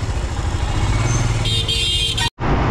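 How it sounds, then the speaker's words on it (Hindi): A new Royal Enfield Scram 411 motorcycle being ridden makes a steady, loud engine drone mixed with road and wind rush, then cuts out abruptly near the end before resuming. "बाइक मक्खन चल रहा है, मक्खन, वाओ एकदम स्मूथ"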